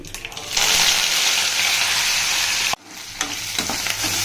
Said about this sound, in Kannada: ಹಸಿಮೆಣ್ಸಿಕಾಯಿ ಈರುಳ್ಳಿ ಕರಿಬೇವು ಹಾಕಿ ಸ್ವಲ್ಪ ಈರುಳ್ಳಿ ಫ್ರೈ ಆಗಲಿ